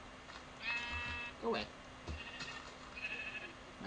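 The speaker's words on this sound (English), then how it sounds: "That's a pushy sheep." Sheep in Minecraft bleating several times in short, close, pitched cries, with someone talking over them in between.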